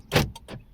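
A Hyundai Santro's central locking engages by remote with no siren: one firm clunk followed by two quicker, softer clicks from the door lock actuators, close and isolated.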